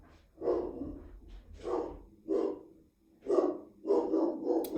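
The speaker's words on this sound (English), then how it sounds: "Package came to the door and the dog didn't like them on the porch." A dog barks indoors at a package delivery left on the porch by the front door. Five or six sharp, fairly close barks come in uneven bursts with short breathy gaps between them and no one speaking.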